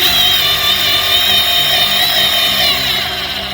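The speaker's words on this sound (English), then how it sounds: "if you go in too fast and seat them in too deep, since these are not real long screws, they will strip out in here, especially with plywood" A power driver seats short screws into plywood with a loud, steady motor whine that holds for several seconds and then eases slightly toward the end, with no talking.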